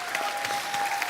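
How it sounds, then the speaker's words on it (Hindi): A studio audience at a Hindi comedy show applauds, a dense wash of steady clapping that holds evenly loud throughout a brief stretch. "तुषार, कीकू और कृष्णा के लिए जोरदार तालियां।"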